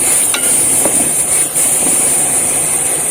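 Chopped tomatoes and masala paste sizzling in a pan while being roasted for a keema gravy, a steady loud crackling hiss throughout with a few faint stirring scrapes.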